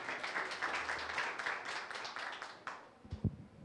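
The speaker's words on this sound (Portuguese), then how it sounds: "Por favor, uma salva de palmas." Applause from an audience at a consumer defense commission event in Angra dos Reis, a dense burst of clapping that fades out toward the end, followed by a few close knocks or handling sounds.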